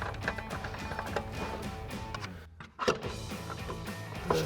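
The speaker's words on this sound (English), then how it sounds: "Go ahead and remove our mounting nut." A power tool whirs and rattles while spinning off the shock mounting nut on a 2016-2024 Camaro during a lowering spring install. The buzz runs steadily, breaks off briefly near the middle, then resumes.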